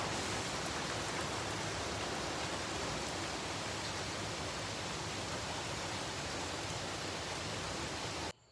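Heavy rain pours steadily outside at night, a dense unbroken hiss with no pauses, lasting until it cuts off abruptly at the very end.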